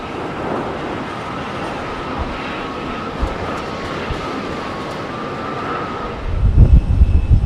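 A British Airways Airbus A320neo landing at Heathrow, inbound from Berlin, makes a steady mid-distance jet roar with a faint whine, ending in a brief, louder low rumble.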